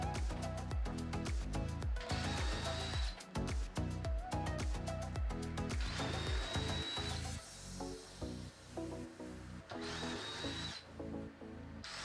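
A power drill whirs in repeated short bursts as screws are driven into a wooden headboard top board, with steady pulses of motor noise close by.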